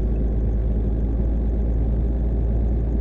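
A bus built on a truck chassis driving in a simulation game, giving a steady, low engine rumble and drone throughout with no change in pace and no voices.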